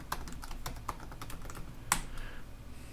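Keys clack on a computer keyboard at an irregular pace, a quick run of light taps with one sharper, louder stroke partway through, close up over a low steady room hum with no talking.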